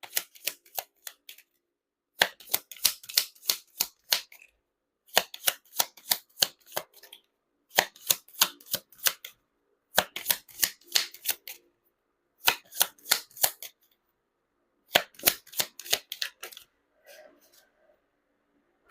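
Tarot cards being shuffled and drawn, crisp riffling bursts in about six short clusters separated by brief pauses, close and fairly quiet with no talking.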